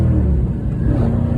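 A Dodge Charger engine rumbles and revs steadily up close, a deep throaty idle swelling slightly without any talking.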